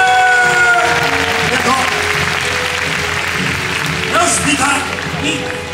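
Audience applause fills an outdoor USJ WaterWorld stunt show, a loud sustained clatter of clapping from a large crowd, with a performer's voice speaking over it near the start and end.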